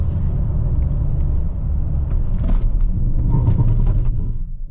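A Hyundai Palisade SUV slows under braking on a highway, a steady loud low road and cabin rumble with faint mechanical creaks, no talk over it.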